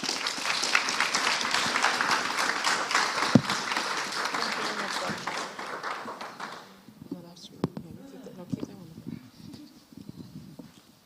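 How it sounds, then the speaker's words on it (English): Audience applause at an afternoon plenary session fills the first seven seconds as dense, steady clapping, then cuts to quieter room noise with scattered taps and faint sounds. "let's offer another round of applause for that very informative presentation"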